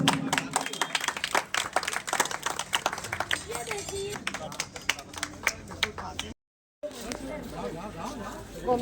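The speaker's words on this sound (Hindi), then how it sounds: "सभी लोग तालियों से स्वागत करें।" An audience at a community celebration of Dr. Bhimrao Ambedkar's 134th birth anniversary claps to welcome a guest, a dense irregular patter mixed with chatter and voices throughout, briefly cutting out near the end.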